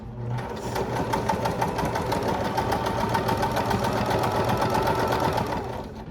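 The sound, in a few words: sewing machine stitching a bear paw quilt block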